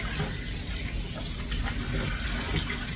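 Water is emptied from a container during a Yorkie grooming session, a steady rushing gush and hiss that runs continuously for a few seconds at close range.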